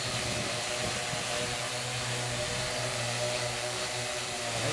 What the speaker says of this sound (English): Man, that was a good gust.